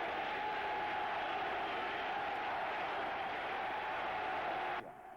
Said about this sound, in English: that Michigan defense comes onto the field to the chants of the crowd here at U of M Stadium